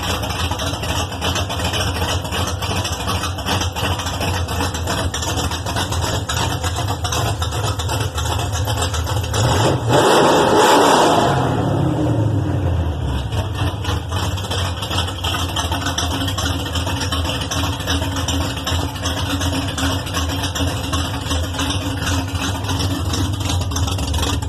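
A built 360 V8 engine with J-heads and forged Wiseco pistons idles in a truck with a deep, steady rumble, swelling briefly in one short rev partway through before settling back.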